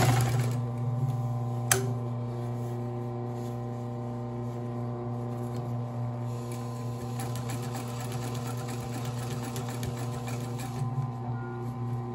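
Consew sewing machine driven by a servo motor stitching through eight layers, a steady close mechanical hum with a rapid even needle rhythm running continuously after a sharp click at the start.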